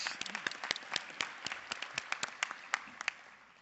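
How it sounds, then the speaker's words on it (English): An audience at a Greater Houston Partnership airports event in Houston gives a round of applause for the master of ceremonies, with sharp individual claps rising and falling, some standing out clearly. "Let us give our Master of Ceremonies a very big hand."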